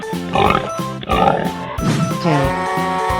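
A cartoon pig in a 3D animal slide video game grunts and oinks loudly in a few close, rhythmic bursts with no voices over it.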